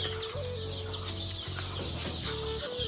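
Chicks and hens on a poultry farm cluck and peep continuously at close range, a dense chorus of short overlapping calls with no talking.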